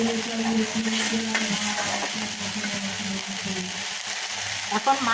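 Spice masala with salt stir-fried in a pan for rohu fish roe bhuna, with a steady close sizzle and repeated scraping of a spatula, plus a low background hum.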